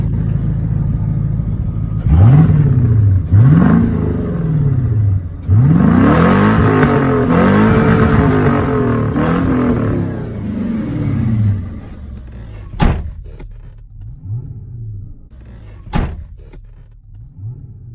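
A straight-piped Infiniti Q45 G50 with dual exhaust revs close by in a run of rising and falling pulls, deep and raspy. The engine then settles to a lower idle broken by two sharp blips.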